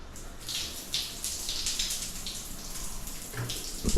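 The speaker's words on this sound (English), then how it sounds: "this is the bathroom, the shower" Shower running in a Bali hotel bathroom, a steady hiss of falling water with gentle fluctuations, moderately close, no talking.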